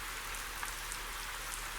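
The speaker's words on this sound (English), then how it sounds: "And it's raining." Steady rain patters on a surface in Euro Truck Simulator 2, a constant hiss with a few faint drop ticks, heard alone throughout.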